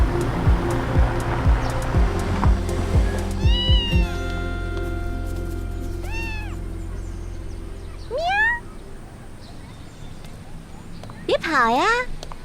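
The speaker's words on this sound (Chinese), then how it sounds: "刚看到一只流浪猫，正勾得起劲儿呢" A stray cat meows several times outdoors, each call a clear rising-falling wail spaced a few seconds apart, with a loud low rumble and some clattering in the first few seconds and faint background noise throughout.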